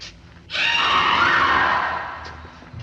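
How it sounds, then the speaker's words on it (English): A loud, sustained scream bursts in after a brief lead-in, holding strong for over a second before tapering off into quieter sounds. "I have a feeling I've heard that scream before."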